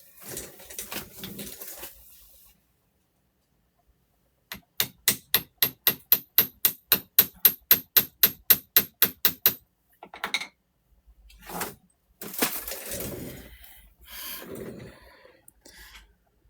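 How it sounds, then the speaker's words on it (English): A quick series of about fifteen sharp metallic taps of a hammer flattening the top of a wire earring hook at a steady rhythm, close by, followed by some handling clatter and rustling. "Let me hammer to show you."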